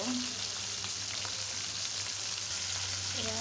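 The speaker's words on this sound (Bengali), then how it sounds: "আমি এখন মাছগুলাকে লাল লাল করে ভেজে নিব।" Kalbaus fish pieces fry in hot oil in a pan, a steady close sizzle with soft crackle throughout and a low hum underneath.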